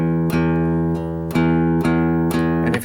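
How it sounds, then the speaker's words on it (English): An open string on a guitar is strummed repeatedly in a steady down-strum rhythm, ringing bright and sustained with sharp attacks about every half second and no talk. "Just an open string."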